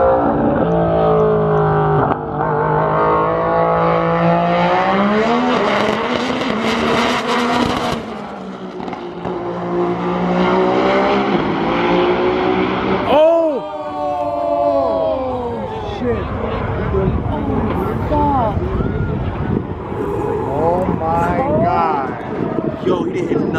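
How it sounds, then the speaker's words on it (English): A Nissan GTR race car roars past at high speed, engine climbing through gears with a sharp Doppler sweep, amid crowd noise at a roll racing event; people talk and shout over the passes. "There's the world's fastest GTR."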